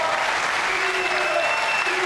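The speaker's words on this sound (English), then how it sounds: "The crowd is going absolutely berserk." A bowling crowd at the Weber Cup match between Team Europe and Team USA claps and cheers loudly after a strike delivery, dense sustained applause filling the arena with no break, with a faint voice underneath.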